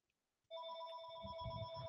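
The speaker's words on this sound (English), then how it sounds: "This is the house phone." A house telephone starts a steady electronic ring partway through, loud and close, and the tone holds unbroken to the end with no voices.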